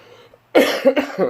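A single close, harsh cough breaks out after a moment of quiet, rough and raspy.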